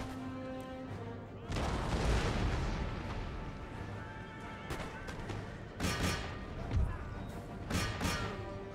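Cannons fire round shot in the strategy game Empire: Total War, booming and rumbling at a distance in several heavy blasts over a constant battle din.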